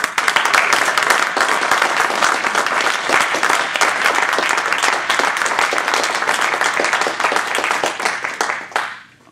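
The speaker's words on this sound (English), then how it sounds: "provide him with a round of applause" An audience applauds loudly and steadily for several seconds, a dense wash of clapping that fades out sharply at the end.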